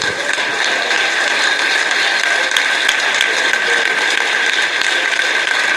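A church congregation applauds to give glory to God, dense continuous clapping from many hands filling the room evenly at steady loudness, with no voices heard over it.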